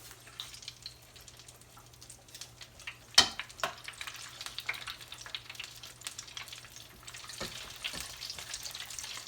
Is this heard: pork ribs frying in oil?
yes